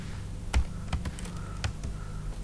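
Keys on a computer keyboard are struck in a few scattered, separate taps against a low steady hum, close by but fairly quiet, with no voices.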